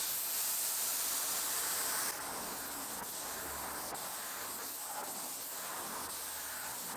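A spray gun fed by an air compressor spraying primer, a steady soft airy hiss with slight pulses as the trigger work changes, faint and even throughout with no talking.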